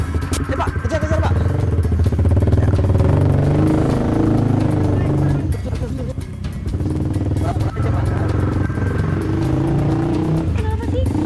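Motorcycle engine droning loud and close through a chase, with a steady low rumble and shifting revs, mixed with traffic noise and overlapping voices talking throughout.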